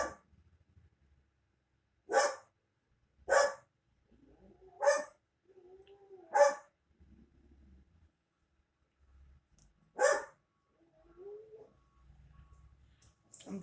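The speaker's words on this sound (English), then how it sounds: "That's my dog." A dog barks in single sharp yelps, five spaced a second or two apart and then another after a pause, fairly close in an otherwise quiet room with faint sounds in between.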